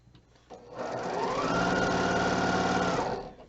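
A sewing machine stitches quilt squares corner to corner in a single steady run of about three seconds, close and clear with no talking.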